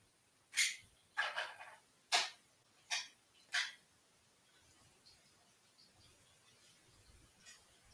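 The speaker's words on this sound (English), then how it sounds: "Got a dog whimpering all over the place." A dog barks nearby in a quick run of five or six sharp yelps over about three seconds, then goes quiet against a faint background.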